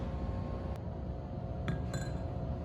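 A pencil lowered into a glass of water makes a few faint, sharp clinks against the glass, spaced out over a low steady hum.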